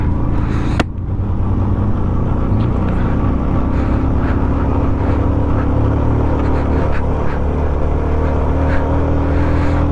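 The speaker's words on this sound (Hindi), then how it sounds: "बाइक बहुत दम तोड़ रही है इस बार" Motorcycle engine labouring hard as it climbs the Gata Loops in Ladakh on a Sarchu to Leh ride, a loud, steady low drone with wind rumble running throughout and no talk.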